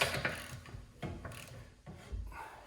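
Close mechanical clicks and short ratcheting turns from a wrench tightening a brake bleeder screw on a Mazda 3, in a few quick bursts with small metallic knocks and rubs between them.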